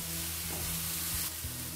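Portobello mushrooms, seasoned with salt and pepper, sizzle steadily in a hot pan, a close, continuous frying hiss with a few soft stirring bumps.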